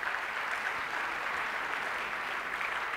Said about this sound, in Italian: Facciamo un applauso alla regia